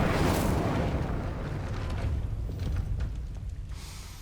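The Incendio fire spell cast in Hogwarts Legacy: a loud roaring whoosh of flame that bursts at once, then rumbles on with crackling, slowly fading over several seconds, with no talk over it.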